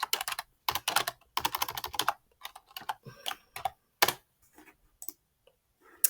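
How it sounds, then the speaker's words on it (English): Quick bursts of keystrokes on a computer keyboard, close and fairly clear, arriving in uneven clusters with short pauses between runs of typing; no talking. "I'm still typing those things in"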